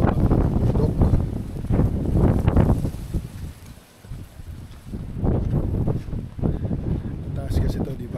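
Strong, gusty wind sweeping down from the mountain at the foothills of Mt. Banahaw blows as a steady rushing roar that swells and dips, with people talking over it much of the time.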